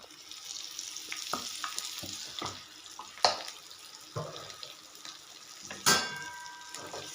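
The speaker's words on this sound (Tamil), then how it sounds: "இப்போ இது எல்லாத்தையும் நல்லா வறுத்து எடுத்துடலாம்" Quail eggs frying in a little oil with salt, a steady close sizzle broken by occasional clinks and scrapes of gentle stirring, no talk.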